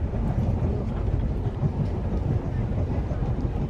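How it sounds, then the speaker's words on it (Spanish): A night passenger train rolls along the tracks between Temuco and Santiago, Chile, with a loud, steady low rumble and roar, close and continuous throughout. "además de escuchar el poético sonido de las vías"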